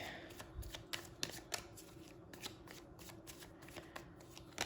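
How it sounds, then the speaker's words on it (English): Tarot cards riffled and shuffled repeatedly in quick, crisp bursts, close and steady, with no talking. "Pre-shuffled the cards, but I'm just going to do another layer of cards."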